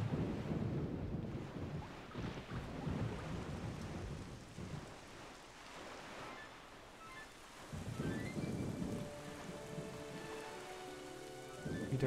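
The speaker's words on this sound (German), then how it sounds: "Wieder Gewitter." Thunderstorm in The Legend of Zelda: Wind Waker HD, steady rain hiss with rolling thunder swelling and fading, loud and alone with no talk.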